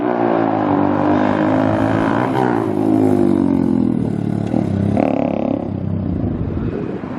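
A 2023 Honda Grom motorcycle engine revs loud and close, a raspy rising and falling roar that holds steady for several seconds before a brief higher burst near the end.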